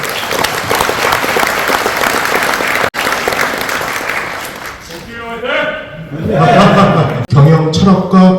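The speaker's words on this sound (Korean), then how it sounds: "옥수엽 대표님 다시 한번 큰 박수 주십시오" Audience applause at a company's 40th anniversary celebration, loud steady clapping for several seconds that fades as a voice and some laughter take over.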